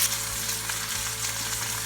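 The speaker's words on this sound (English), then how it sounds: "you're going to take your butter, and you're just going to place it around the steak" Butter sizzles steadily around a pan-fried T-bone steak, a close, continuous hiss and crackle with a low electrical hum beneath it and no voices.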